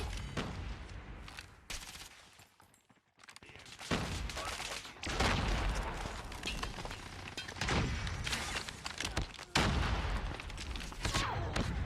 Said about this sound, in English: Fucking 3 teammates shooting at the 1 person.